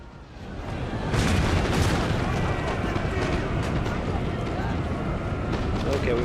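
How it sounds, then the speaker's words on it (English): Artillery in a Napoleonic-era battle game fires canister shot in volleys, a dense, continuous rumbling barrage of booms and cracks that swells after a brief quieter start and stays loud throughout. "Artillery keeps firing volleys into those."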